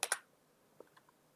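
Two quick, crisp key presses on a computer keyboard, close and clear, followed by a few fainter clicks in an otherwise quiet room.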